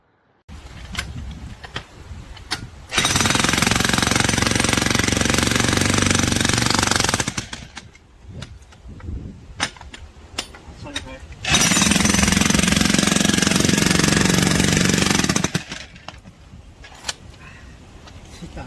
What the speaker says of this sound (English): We did all this with this VEVOR chipping hammer.